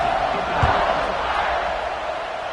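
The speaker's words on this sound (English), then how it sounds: "this crowd is buzzing after that last score" Steady roar of a football stadium crowd buzzing after a score, a dense, loud wash of many voices with a brief thump partway through.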